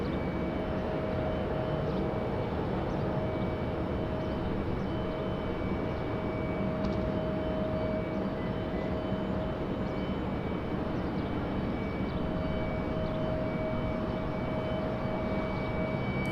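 An American Airlines airliner taxis toward the end of runway 23 at Raleigh-Durham International, a steady low engine rumble with a faint whine held at constant level throughout.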